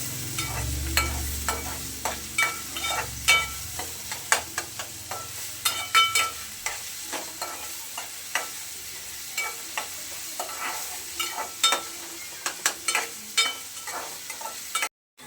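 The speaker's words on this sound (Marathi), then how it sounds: "आता आपण त्याच्यामध्ये बारीक कट केलेला कांदा घालायचा आणि कांदा आपल्याला छान असा गुलाबी रंगावरती परतून घ्यायचा आहे" Finely chopped onion sautés in hot oil for egg bhurji, a close, steady sizzle punctuated by frequent rhythmic scrapes of a spatula turning it across the pan.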